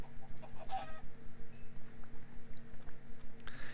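Minecraft chickens in the FTB Horizons II modpack cluck in a quick repeating game-sound loop, steady pulsing bursts at moderate volume with no talking over them.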